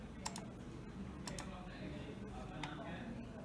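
A few sharp mouse clicks, a close pair followed by another pair and a fainter one, small and dry against a low steady background hum.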